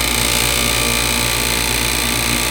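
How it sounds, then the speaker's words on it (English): The vacuum pump of a Harvest Right freeze dryer runs steadily, a loud continuous mechanical drone with a buzzing rattle that stays constant throughout, close by with no pauses. "Now I can switch on the vacuum."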